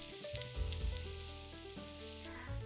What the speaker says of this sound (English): Heat your frying pan on medium heat, add vegetable oil, minced ginger and garlic immediately before the oil gets hot